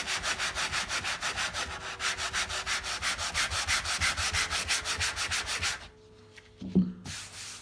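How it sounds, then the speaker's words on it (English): Sanding on the damaged roof panel of a BMW 335i during bodywork repair, a steady rhythmic rasp of strokes close up that runs on, then breaks off into near silence with a brief thump before resuming. "I'll go through and I'll sand this down."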